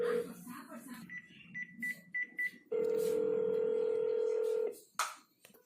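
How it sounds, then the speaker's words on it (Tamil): Telephone keypad being dialed to call the police, a run of short evenly spaced beep tones, then a long steady ringing tone, with children's voices talking faintly before it. "போலீஸ் அங்கிளுக்கு ஃபோன் பண்ணுங்க"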